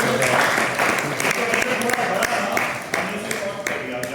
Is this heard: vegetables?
no